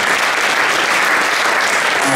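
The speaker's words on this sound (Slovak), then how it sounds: "Veľký potlesk pre Lucku." An award-ceremony audience applauds loudly and continuously, a dense wash of many hands clapping at once with no break.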